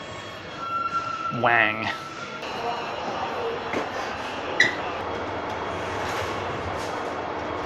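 Riding a metro train in Chengdu: a steady rumble of the moving carriage with a rising whine and occasional clanks, while someone talks over it.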